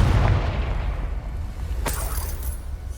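A Confringo blasting spell from Hogwarts Legacy lands with a deep, rumbling boom that slowly decays, followed by a brief sharp crackle near the end.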